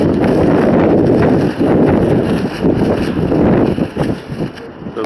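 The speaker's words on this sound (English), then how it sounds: "It's a little bit windy out here." Strong, gusty wind outdoors on a day of overturned trucks buffets the microphone in a loud, rumbling roar that surges and eases, with a person talking through it.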